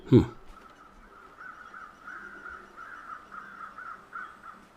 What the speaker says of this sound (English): There's some birds up there.